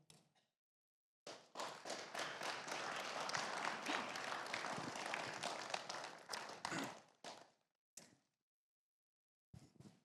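A church congregation at a worship gathering breaks into sustained applause for about six seconds, a dense wash of many hands clapping that swells, then tapers off into a few scattered claps.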